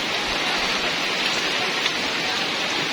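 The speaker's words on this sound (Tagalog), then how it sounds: "Overflow higit ang tubig sa sapa. Yan oh, kusog na." Overflowing creek water rushing strongly, a dense, steady broadband roar of flowing water with no pauses, close and loud throughout.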